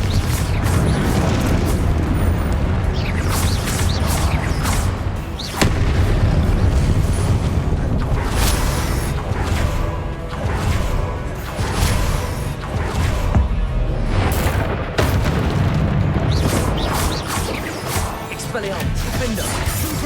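Confringo fire spell explosions in Hogwarts Legacy: loud, dense, repeated booming blasts and crashes rolling one after another without a break for the whole stretch, with voices in the mix.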